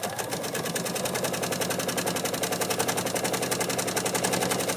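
A sewing machine fitted with a wide hemmer foot stitches a folded hem, a fast, even, mechanical chatter of needle strokes that runs steadily up close throughout with no voices.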